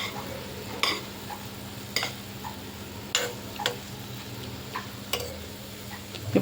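Bread slices fry in a pan for a sweet treat, giving a steady soft sizzle broken by light periodic clicks and taps as they cook, with no talking.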